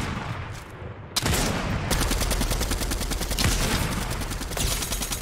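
Rapid assault rifle fire in Fortnite, a dense continuous stream of shots that starts after a quieter second and rattles on steadily, loud and close, with no talking.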